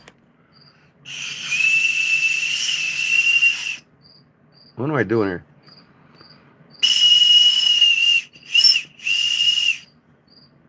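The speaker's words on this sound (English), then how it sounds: "Oh, Skate wants to hear the bozo whistle." A cheap novelty toy whistle, sold as a two-dollar weenie whistle, blown in shrill sustained toots: one long blast, then two more long blasts with a short chirp between, close and loud over a faint background; a brief spoken line comes between them.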